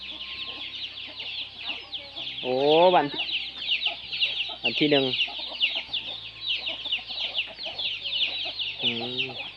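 Barred chickens kept at a rubber-plantation worker's home in Laos cluck nearby, with several short rising cackles over a constant high chirping background and a person talking.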